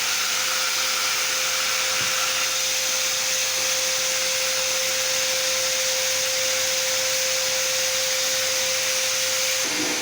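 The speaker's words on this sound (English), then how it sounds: "hoovering out the trap" A vacuum cleaner hoovers out the filter trap of a Hotpoint washing machine showing error code F05, a steady loud roaring drone with a constant tonal whine running unbroken throughout, close and alone.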